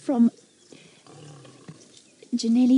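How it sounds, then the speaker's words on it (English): Lion cubs of the Nkuhuma pride give short, strained roaring calls at the start and end, a few seconds apart, with quieter rustling between. "the baby lions are trying to roar"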